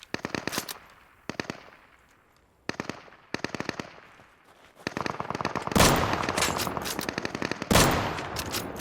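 Bursts of automatic gunfire from the video game Deadside, sharp repeated cracks in quick rhythm, sparse at first, then dense sustained volleys that grow louder toward the end.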